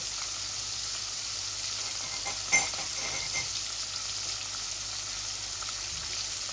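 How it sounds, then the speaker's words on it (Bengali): Rohu fish frying in a pan, a continuous even hiss of oil with a couple of brief louder spatters partway through, close and steady, no voices. "এই যে মাছটা আমি এপিট ওপিট করে ভেজে নিব"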